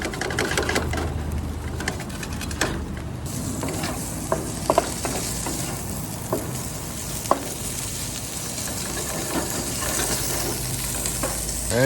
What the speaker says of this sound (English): Add the sausage links. Let's chop these up.